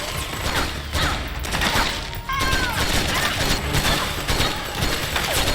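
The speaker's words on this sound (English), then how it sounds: "this is a crazy firefight" Battlefield gunfire from a boss firefight in Metal Gear Solid 4, dense and continuous with overlapping shots, impacts and crashes throughout, loud and close, with no clear pauses.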